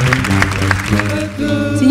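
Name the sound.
audience applause for the bass singers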